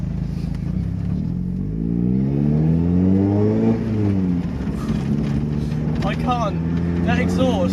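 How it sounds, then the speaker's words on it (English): A Mazda MX5 with an aftermarket exhaust is revved up close, its engine note climbing and falling in a smooth rising-and-falling sweep, with a person talking over the last few seconds. "That exhaust, this is the first exhaust system I've had, and it just sounds so nice."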